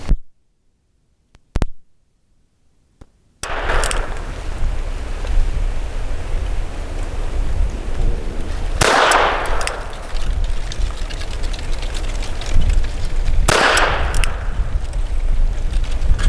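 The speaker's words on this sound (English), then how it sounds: "I'll be shooting at the right circle square. And this is using that SK rifle match." Two loud, sharp gunshots from a Diamondback Sidekick revolver firing .22 rifle match rounds, spaced about five seconds apart over steady outdoor background noise.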